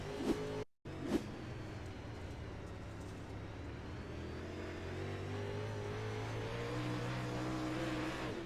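Dirt modified race cars at Lanier circle the track during a restart, a steady loud engine drone that holds throughout after a brief dropout near the start.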